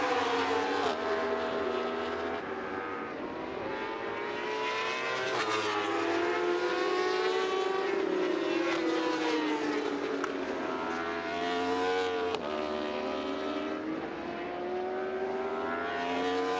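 Superbike motorcycles race on a track at the Motorsport Arena in Germany, their engines screaming continuously and loud, rising and falling in pitch as bikes pass and shift gears through the whole stretch.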